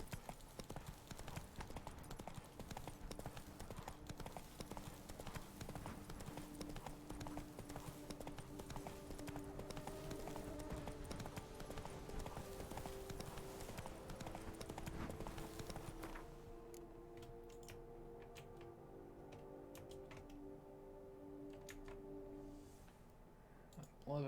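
Horse hooves clip-clop steadily in Witcher 3 as a rider travels along, a dense repeating rhythm of fairly close hoofbeats over a game soundscape with music, the texture thinning partway through.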